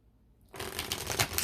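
Deck of tarot cards being shuffled, a brisk rustling riffle that starts after a brief near-silence and stays close and steady.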